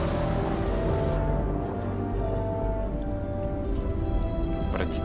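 Water leaking and dripping aboard a sinking ship in the horror video game Man of Medan: a steady, loud wash of rushing, splashing water with low rumbling underneath and a few brief drips near the end, with no talk.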